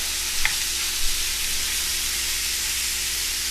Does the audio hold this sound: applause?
no